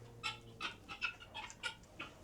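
Farm chickens cluck softly and repeatedly in a quiet setting, a string of short, irregular clucks fairly close by with faint background hum.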